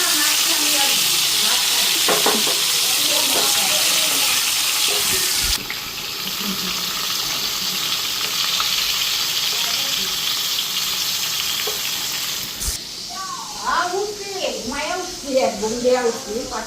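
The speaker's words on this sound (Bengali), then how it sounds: "এদিকে এখন ভাজাটা বসাইয়া দিমু" Food sizzles and hisses loudly in hot oil in a wok, a dense, continuous frying crackle that shifts partway through, with a voice talking over it near the end.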